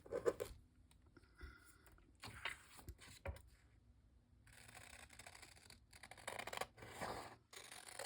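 Paper for a page layout is cut with scissors in short snips and rustles, faint and close, broken by small scraping and handling sounds.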